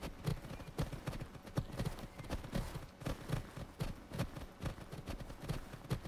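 Hoofbeats of a horse trotting in the video game Horse Club Adventures 2, a steady clip-clop rhythm repeating close and clear for several seconds, with no talking.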